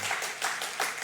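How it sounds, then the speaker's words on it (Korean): A chapel audience at a university worship service claps to welcome a guest pastor, a short burst of dense, steady applause from a crowd indoors. "여러분 환영의 박수를 한번 하겠습니다."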